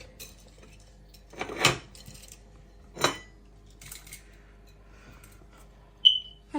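Spices dry roasting in a pan for Hyderabadi biryani, with a few quiet scrapes and clinks of a spoon against the metal at separate moments, then a short, sharp electronic beep near the end.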